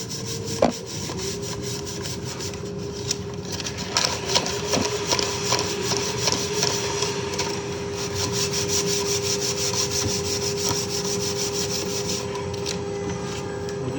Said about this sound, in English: Just sand it good enough to where it's nice and smooth for coating.